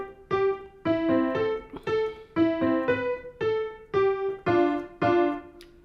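A piano plays the right-hand part of the opening four bars of a simple beginner song: single notes and short figures in an even eighth-note pulse, close and clear with no talking.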